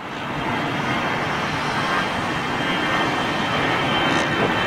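A Boeing 787 Dreamliner departing runway 09R at London Heathrow, a loud, continuous broadband engine roar that holds steady throughout without any speech.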